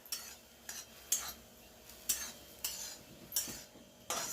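Coarse flour porridge (lapshi) stirred in water in a pot: a fairly quiet series of about eight rhythmic scraping strokes, spaced roughly half a second to a second apart, with a faint bubbling background.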